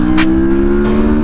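A CFMOTO Adventura 650 motorcycle pulls away hard in a 0 to 60 run, its engine note loud, close and steady as it climbs through the revs, with no talking over it.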